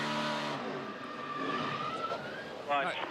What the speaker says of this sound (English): You can hear the old engine. She got a cylinder down.